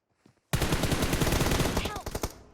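Rapid automatic gunfire in PUBG Mobile bursts out loud and close after a brief quiet start, firing as a dense string of shots that thins to a few separate cracks at the end.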